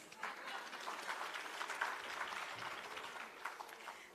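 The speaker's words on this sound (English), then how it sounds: "Our national icon, Miss Lou, would say, clap yourselves." Faint applause from an audience at a regional public sector leadership conference award ceremony, a steady wash of clapping heard from a distance at low level with no other sound over it.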